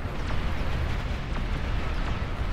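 Lolcannon shot exploding in the strategy game Beyond All Reason, a dense continuous rumbling roar that fills the whole stretch at steady loudness, with faint sharper bursts through it.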